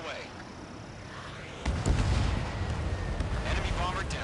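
A missile launching at an enemy bomber in a flight combat game, a sudden roaring whoosh that kicks in and sustains over jet engine noise, with a radio voice speaking.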